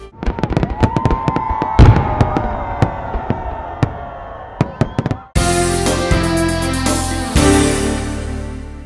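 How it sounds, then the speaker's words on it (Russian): Festival fireworks pop and bang in a rapid series of sharp blasts, a whistling rocket rising among them, then a dense roaring crackle fills the second half. "А в завершении праздника всех ждал праздничный салют."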